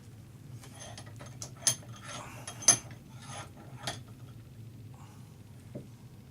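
A part being tapped into a steering system assembly held in a vise, giving a handful of sharp metallic taps at irregular intervals, moderately loud against a quiet room.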